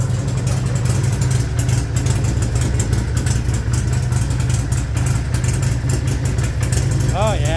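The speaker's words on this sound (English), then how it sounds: "That Cobra exhaust just has a great tone to it." A Hammer 1275 Sportster motorcycle with a Cobra exhaust idles close by, a steady throaty low-pitched thrum with a lumpy pulse, and a voice talks over it throughout.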